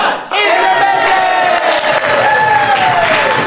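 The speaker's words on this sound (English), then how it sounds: "then we'll shout out intermission with thunderous applause" Improv comedy show audience bursts into loud cheering, whooping and shouting at intermission, a close, dense crowd roar sustained for about three seconds after a brief quiet start.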